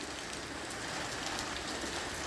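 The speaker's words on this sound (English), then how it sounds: "Yep, nothing but rain." Steady rain falls on a wet morning outside an old camper, a dense, even hiss with no breaks and no voices.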